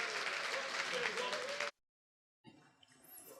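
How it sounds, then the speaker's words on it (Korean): Loud applause and cheering from a pastors' camp audience welcoming a speaker, dense clapping for over a second before cutting abruptly to silence, followed by faint room noise. "우리 지붕이 들썩들썩할 정도로 함성과 함께 박수로 모십니다"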